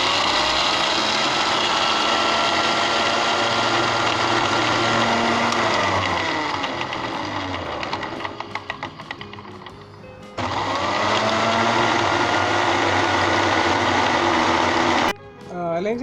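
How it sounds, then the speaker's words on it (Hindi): An electric grinder grinds sugar in a loud, continuous motor whir that rises and shifts in pitch, dips briefly near the middle, then starts again at full strength and cuts off abruptly toward the end. "इसे अच्छे तरीके से दोबारा ग्राइंड करते हैं।"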